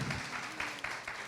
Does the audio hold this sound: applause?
yes